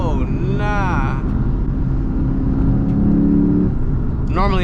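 A Lexus IS F's V8 engine revs, with rising and falling harmonic sweeps over a loud, steady drone heard from inside the car, then a fresh climb at the end, a voice briefly over it.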